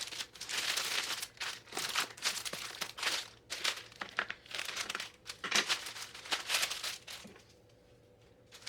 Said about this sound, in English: So I'm just cutting the parchment paper